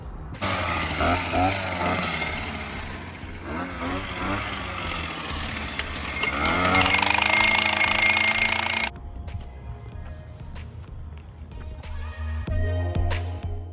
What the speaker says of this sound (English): we'll jackhammer them in shortly. Okay, jackhammering.